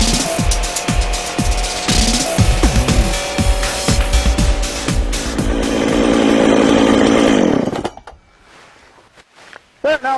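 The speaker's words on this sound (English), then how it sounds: "So decompression on the saw, on with the switch." A chainsaw engine driving a Lewis winch roars loud and close, rising through revving bursts into a sustained high-pitched scream before cutting off abruptly near the end, leaving quiet with a few clanks.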